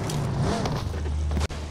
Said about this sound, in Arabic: صوت عربية، حد جاي. سيارة.